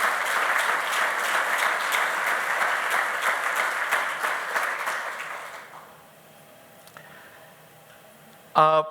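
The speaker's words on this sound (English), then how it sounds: "So a big round of applause to everybody who's in NetHope." A summit audience claps loudly and continuously for about five seconds before the applause fades to quiet room tone, ending with a brief sharp noise.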